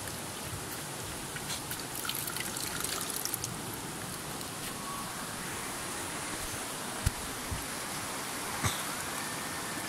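Spring water trickles and patters steadily in a national park while a container is filled, a continuous close splashing hiss with a few small clicks near the end.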